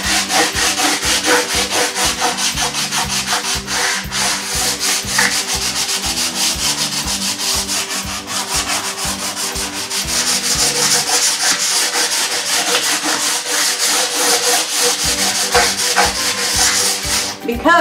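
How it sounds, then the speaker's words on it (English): Sandpaper rubbing back and forth across a painted wooden bench, a steady rhythmic scratchy rasp of repeated strokes, close and loud, pausing briefly near the end before resuming. "as I run my sandpaper across the wrinkles that might be still there"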